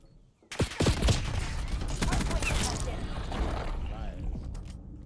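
Gunfire in a Call of Duty match rattles out in a quick burst of sharp shots followed by lighter mechanical clatter and movement sounds, fairly faint and with no talk.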